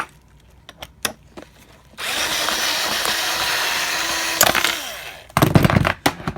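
Power drill backing a stripped, bent screw out of a combat robot's weapon: a few clicks and taps, then a loud continuous whirring drill run of about three seconds that winds down, followed by clattering handling noises.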